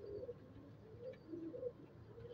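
Black-tipped (kali nok) pigeons coo softly nearby, with a few low, rolling coos repeating over faint background hiss.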